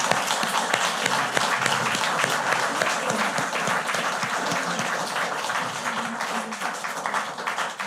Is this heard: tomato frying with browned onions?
no